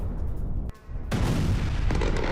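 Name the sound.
explosions heard in Moscow during drone attack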